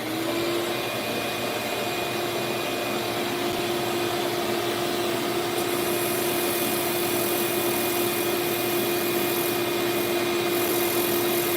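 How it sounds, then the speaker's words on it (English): A steady whirring drone runs without a break on a wood lathe while a turned piece is sanded, loud and close with a constant motor tone, and no voices over it. "I'm gonna sand that goop off first"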